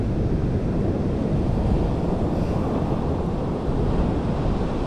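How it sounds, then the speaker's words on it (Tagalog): Big ocean waves at high tide crash and roar in a dense, unbroken wash of noise, loud and close, with wind buffeting the microphone throughout. "Medyo high tide pa kasi, hindi pa makapwesto na maayos. Yan o, laki pa ng mga alon dyan."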